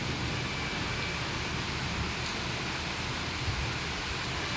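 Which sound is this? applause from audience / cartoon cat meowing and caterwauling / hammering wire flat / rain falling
rain falling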